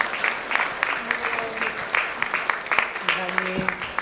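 A church congregation at a Sunday morning Methodist service claps together in celebration, a loose spread of hands under a voice and some tonal sounds from the front.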